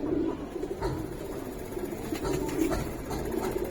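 Soft, low, rhythmic cooing from a Pakistani high flyer pigeon, a silver-coloured Giribaz male, repeating in short bursts against light background noise.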